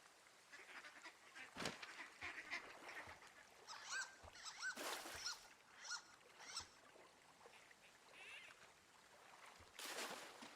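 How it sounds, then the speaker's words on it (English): Ducks quack and honk in the video game Firewatch, several calls scattered over a soft outdoor meadow ambience, with occasional sharp knocks and a faint murmur of background sound. "Duck noises going on."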